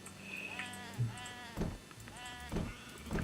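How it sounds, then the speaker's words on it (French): Several sheep bleating in turn in Age of Empires III, wavering cries close by over a faint background murmur. "J'adore les moutons."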